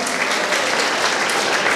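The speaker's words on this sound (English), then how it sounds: "So give huge round of applause." Applause for meritorious 10th and 12th grade students at a school honors ceremony, a brief, steady burst of many hands clapping at moderate loudness, with no speech over it.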